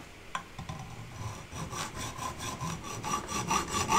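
Saw cutting the welded rim brake mounts off a retro 1990s Cannondale bicycle fork, a steady rhythmic back-and-forth rasp up close that grows louder and faster as the cut progresses.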